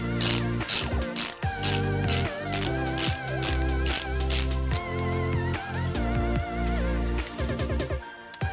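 Ratchet tightening bolts on a 6.0L LSX engine, loud rapid clicking in repeated bursts with short pauses between strokes, close up and without voices.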